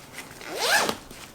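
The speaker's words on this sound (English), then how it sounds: "zipper." A single quick zip on a camera bag rises and falls within about a second, close and clear, with no talk over it.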